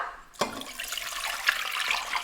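Three cups of water pour into a pot for making syrup, a sudden splash followed by a steady close rush of liquid.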